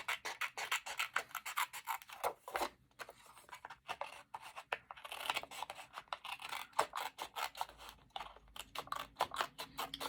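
Scissors snip and scrape through paper close by, a series of short uneven crisp cuts with brief pauses between them.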